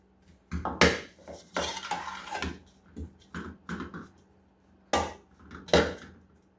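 Gersan khubos dough being mixed with syrup in a bowl, giving irregular clinking and scraping strokes of a utensil against the dish, close and fairly loud bursts separated by short pauses.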